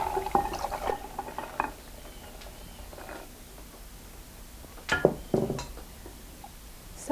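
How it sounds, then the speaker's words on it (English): Rinse water is poured off dried beans in a kitchen, in short splashing bursts near the start and again midway, close but fairly quiet, with soft handling noises between pours. "And I'll pour this off as well."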